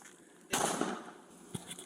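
Gunfire from a police officer-involved shooting in Stockton, California: one sharp, loud bang followed by a brief rumbling tail, then a fainter second report, with no talking.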